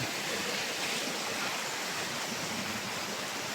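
Steady rushing river water, a constant broadband wash like a flowing stream, even and unbroken throughout with no voices.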